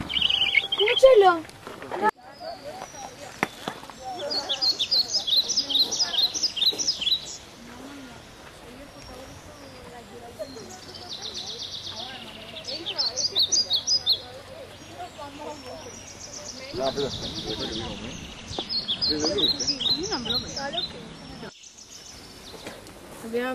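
A wild bird, a blue rock thrush, calls on the Duino sea cliffs in repeated bright chirping phrases with short pauses between them, set against outdoor ambience with people's voices at times.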